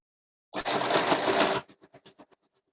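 A sewing machine stitches along the edge of ribbon for a hanger, a close, fast whirring run of about a second followed by several slower separate clicks as the needle stops.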